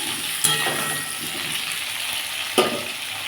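Potatoes and tomatoes fry in a pan with a steady, dense sizzle, broken by a couple of brief scraping stirs.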